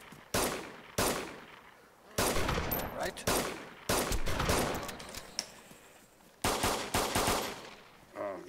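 Gunshots fired by a player in DayZ ring out as several sharp, loud single reports spaced a second or so apart, with a brief spoken word in between.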